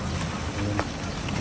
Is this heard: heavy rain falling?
yes